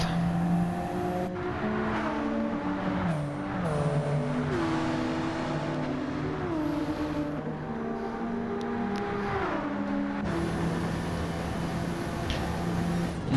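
A Group 3 race car in Gran Turismo 7 at Monza, its engine revving high and falling through several gear changes, each shift a sharp drop in pitch before the note climbs again, loud and continuous with no talk.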